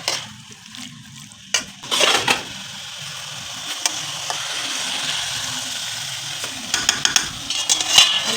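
Broiler chicken meat sautéing in a little oil with garlic and tempering spices, a steady moderate sizzle with intermittent scraping stirs and utensil clinks against the pan.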